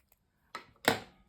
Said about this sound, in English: And I'm going to cut it.